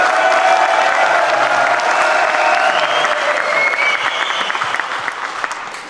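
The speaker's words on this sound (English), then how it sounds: "Can we have a cheer for Tom in France," A crowd at the Milwaukee Conference in Dublin claps and cheers for a competitor, a loud, sustained wash of applause with whoops on top that slowly thins toward the end.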